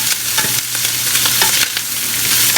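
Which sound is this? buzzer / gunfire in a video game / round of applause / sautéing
sautéing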